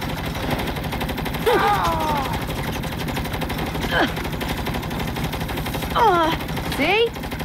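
Rapid automatic gunfire rattles steadily through a firefight in the 2022 Saints Row reboot, loud and continuous, while voices talk and shout over the shooting.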